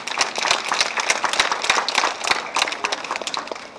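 An audience at a reception at a mission school campus gives a round of applause: a steady patter of many hands clapping, moderately loud and continuous throughout.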